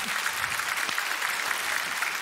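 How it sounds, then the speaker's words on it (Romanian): Applause from a stand-up comedy audience, steady continuous clapping held at moderate level and slightly distant, with no talk over it. "Știți femei care conduc bine prin aplauze?"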